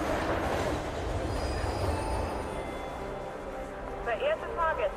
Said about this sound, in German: der auf Gleis A einfahrende Zug ist nicht für den Personenverkehr bestimmt